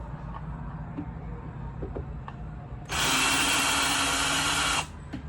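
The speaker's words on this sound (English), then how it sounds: "So now, I'm unscrewing this screw." An electric power tool unscrews a screw, its steady high whine running for about two seconds over a constant low background hum, close and loud.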